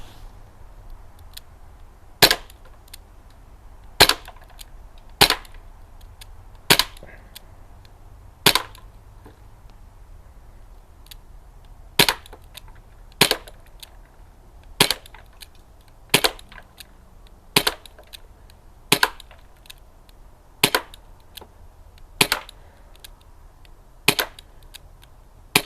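A Crosman Mako CO2 air pistol fires about twenty sharp, loud cracks at a steady, unhurried pace of one shot every second or two, each a crisp snap over a faint background hiss.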